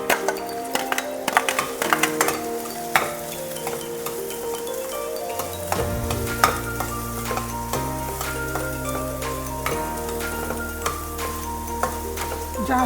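Carrots frying in oil in a pan for a veg cheese sandwich, a steady soft sizzle with scattered clinks and scrapes of stirring, running continuously beneath louder background music.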